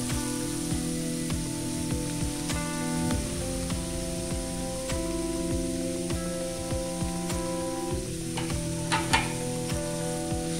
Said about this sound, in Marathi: तूप गरम झालेला आहे, त्यामध्ये आपण बीटचा किस केला आहे तो टाकून घेणार आहोत